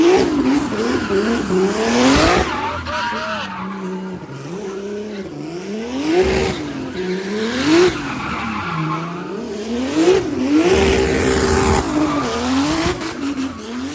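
A drift car's engine revs hard and rises and falls repeatedly while tires squeal continuously, loud and close throughout.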